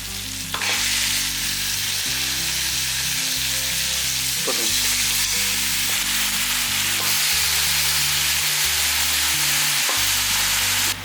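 Mutton pieces fry loudly in a pan for a festival-style mutton kuzhambu, a steady dense sizzle with occasional stirring clatter, no voices.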